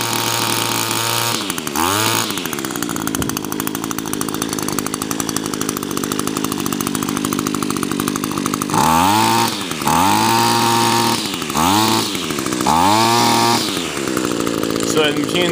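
An Echo SRM 225 string trimmer engine screams at high revs, with a sustained two-stroke whine that repeatedly dips and climbs back up through several throttle blips, loud and close.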